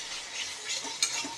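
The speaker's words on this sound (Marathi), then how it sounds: "मसाले आपले फ्राय झाले 2 मिनिटं।" Spices fry in hot oil in a pan while being stirred for a couple of minutes, giving a soft, steady sizzle with a few light scraping clinks of a spoon, close and alone.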